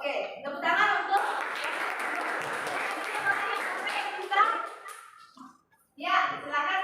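A classroom group in Indonesia breaks into scattered applause for a student group, a few seconds of mixed clapping with children's voices, then fading before talk resumes.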